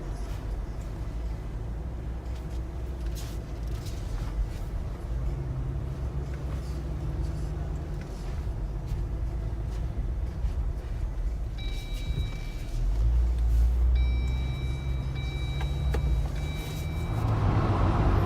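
A Jeep Wrangler JL with a 3.6-liter Pentastar V6 and 8-speed automatic drives forward, heard from inside as a steady low engine and road drone that swells slightly near the end, with no talking.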